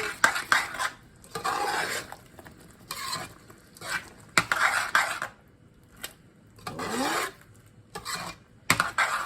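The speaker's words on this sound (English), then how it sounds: "And just about half a tablespoon of salt. Let's stir that in." Salt being stirred into a meatloaf mixture in a bowl: a series of separate scraping, rasping strokes of a utensil against the bowl, with short pauses between bursts, close and moderately loud, with no talking.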